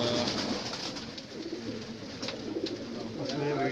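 Black pigeons coo softly and repeatedly amid a busy, noisy background with some indistinct voices.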